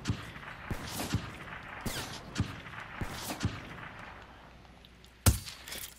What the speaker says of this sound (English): Stop going for wallbangs, dude, it scares me.